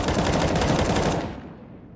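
Sustained AK rifle spray in the video game Counter-Strike on the map Nuke, a dense rapid stream of loud shots that ends abruptly and tails off into a short fading echo.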